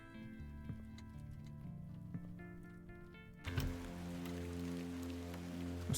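Rain falls in The Excavation of Hob's Barrow video game, a quiet steady patter that swells into a fuller, denser downpour partway through, with a soft music bed beneath and no talking.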